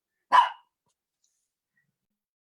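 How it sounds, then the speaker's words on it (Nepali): A single short dog bark indoors, close and sharp, followed by silence. "कुकुरले थोरै डिस्टर्ब गर्यो"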